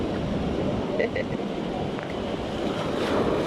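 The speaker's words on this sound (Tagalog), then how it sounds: "Ang lakas ng alon." Loud, continuous rush of strong ocean waves, with wind buffeting the microphone and a few faint voices in the background.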